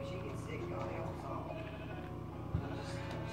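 Sheep bleat in an Xbox 360 video game, repeated wavering calls over a steady game background, with someone talking across them.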